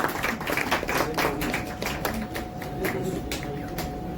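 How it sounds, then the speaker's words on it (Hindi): An audience claps at a Hindi poetry gathering in a Delhi mall, with loose, scattered hand claps rising and falling throughout while someone speaks over them. "और जब तक प्रेम से तालियां बजाएं हम लोग"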